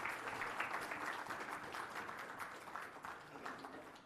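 Audience applause at a live-streamed infrastructure BIM event, a steady wash of many hands clapping at moderate loudness throughout, fading slightly near the end, with no voices over it.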